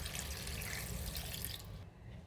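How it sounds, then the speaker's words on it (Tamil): About three quarters of a tumbler of water is poured onto coconut in a blender jar, a soft, steady splash and gurgle that stops near the end. "ஃபஸ்ட்டு பால் எடுக்கிறதுக்கு 3/4 டம்ளர் தண்ணி சேர்த்துக்கிறேன்."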